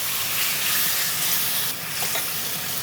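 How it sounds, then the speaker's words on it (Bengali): Raw mango and tomato go into a hot pan for a rohu fish curry with drumstick, giving a steady, close, broadband sizzle and hiss that runs throughout, dipping briefly partway through. "এখন আমরা কাঁচা আম আর টমেটো দিয়ে দিচ্ছি।"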